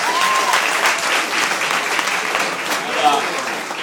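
Steady applause from a gathered crowd honoring Maureen after her speech at a family gathering, dense continuous clapping held at an even level with faint voices mixed in.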